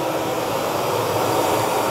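A Ridgid 4-gallon shop vacuum runs inside a closed cabinet, giving a steady, muffled whooshing roar that holds an even level for the whole stretch with no talking.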